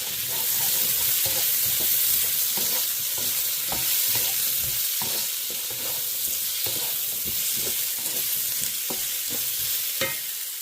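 Cauliflower stir-fries in a hot pan with loud, continuous sizzling, broken by a steady run of sharp scraping and tossing clatters from the stirring, and no voices.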